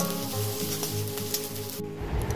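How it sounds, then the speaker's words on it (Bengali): An egg frying in a pan, a steady broadband sizzle crackling close by and continuing throughout, with a brief lull near the end. "এবার আমি খালি ডিমটা ভেজে নেব"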